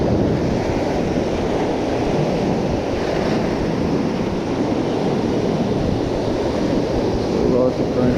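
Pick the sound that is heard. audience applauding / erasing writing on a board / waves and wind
waves and wind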